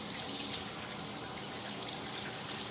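Bath water pours from a tap into a tub in a steady, soft rushing stream with faint splashing, continuous and fairly quiet, with no talking.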